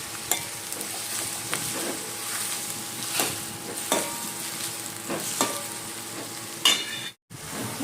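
Vegetables seasoned with salt and soy sauce sizzling in a pan, a continuous close frying hiss with regular stirring and scraping strokes and a brief dropout near the end.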